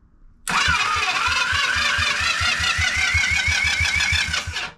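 A starter on a 40-year-old Honda with a low battery cranks in rapid rhythmic pulses, the engine laboring to turn over, loud and close, continuing for several seconds before cutting off.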